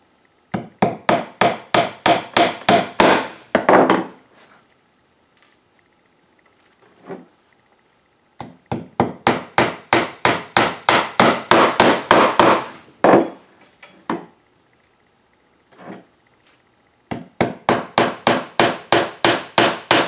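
A hammer drives nails into half-inch plywood while a birdhouse kit is assembled, with three runs of quick, sharp, close blows separated by pauses and a few lone taps.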